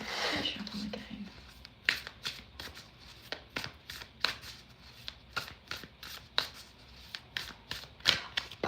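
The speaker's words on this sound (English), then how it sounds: "Shuffle again." Tarot cards are shuffled in repeated quick riffles and flicks, crisp and close, with a soft background murmur between the strokes.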